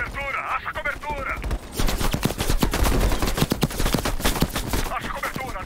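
A turret fires in Call of Duty Black Ops Cold War, sending rapid, loud bursts of gunfire over several seconds while a voice talks in between.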